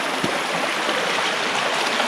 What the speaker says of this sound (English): The water gets very noisy here.